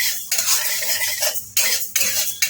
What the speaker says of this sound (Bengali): মুগডালটাকে আমি লাল করে ভেজে নেবো একটু নাড়তে নাড়তে নাড়তে নাড়তে একটু হালকা লাল হবে